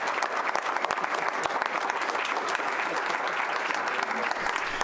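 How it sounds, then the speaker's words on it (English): An audience at a school board meeting gives a steady round of applause, many hands clapping in a dense, even patter that holds for several seconds. "if you guys can give him a round of applause"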